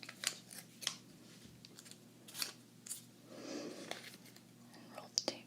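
Scissors trimming the end of a strip of tape while cake pops are assembled, giving a few crisp, close snips among soft rustling in a quiet room, with faint whispered speech in places.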